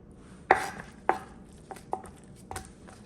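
A knife chops through raw chicken on a cutting board, with five sharp separate thuds spaced roughly half a second apart, the first two loudest and the rest fading, with no talk.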